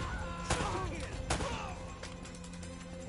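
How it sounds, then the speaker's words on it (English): Sniper rifle shots in the video game Uncharted: Drake's Fortune: two sharp cracks about a second apart, then a fainter third. They ring over game background noise, and a voice talks faintly. "Oh, sniper shots."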